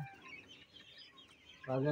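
Sonali chickens cluck on a poultry farm, scattered close calls that end in a louder, fuller squawk.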